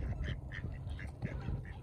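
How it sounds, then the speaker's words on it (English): Ducks quack repeatedly in a quick, uneven series, fairly close but soft, over low background rumble in a Stockbridge outdoor setting. "Not sure what this duck is."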